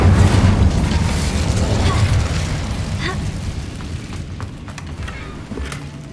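An Incendio fire spell is cast in Hogwarts Legacy and lands as a loud, rumbling burst. The heavy roar fades slowly over several seconds, with small crackles and pops in the tail.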